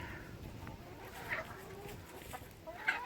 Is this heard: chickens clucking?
yes